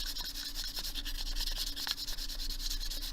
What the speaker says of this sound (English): I'm going to start by just sanding my edges.